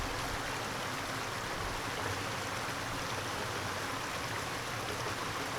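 Steady broadband rush of a waterfall flowing in a landscape, constant and fairly loud with no voices over the whole stretch.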